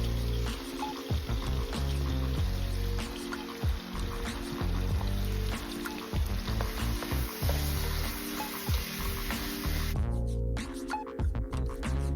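Ground turkey sizzling steadily in a hot pan, a dense continuous frying hiss broken by frequent stirring scrapes and knocks of a utensil, close and fairly loud with no talking.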